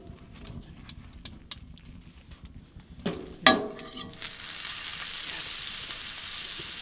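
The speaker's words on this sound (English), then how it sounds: "We've got the skillet down with some butter. We're toasting up these bagels." Sourdough bagels toast in butter in a skillet inside a hot tent during mountain winter camping. A few soft clicks and knocks come first, then a steady, fairly loud buttery sizzle rises and holds to the end.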